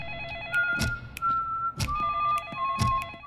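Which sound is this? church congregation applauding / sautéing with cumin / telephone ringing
telephone ringing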